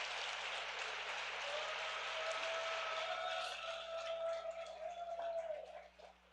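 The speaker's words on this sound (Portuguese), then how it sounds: "Dá uma salva de palmas para Jesus aí, amados." Church congregation applauding at a Sunday evening service, a steady wash of clapping hands that runs for about six seconds and fades out at the end, with a sustained musical tone underneath.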